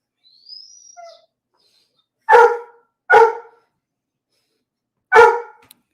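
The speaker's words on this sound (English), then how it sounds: "but he's barking" A dog barks three times in sharp, loud bursts, two close together and one a couple of seconds later, in an otherwise quiet room after a faint high whine at the start.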